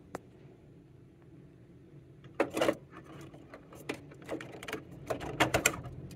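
Ink cartridges being loaded into a printer produce quiet plastic clicks, snaps and rattling handling noises that grow busier toward the end, in an otherwise hushed room.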